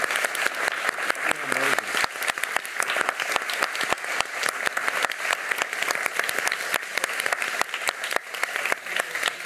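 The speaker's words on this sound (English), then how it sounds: "give me a warm applause, please, for Chris and Adeline" Warm, sustained applause from an audience at an academic lecture event on the 1848 revolution, honoring Chris and Adeline, with dense, fast clapping that holds steady throughout and a few voices mixed in underneath.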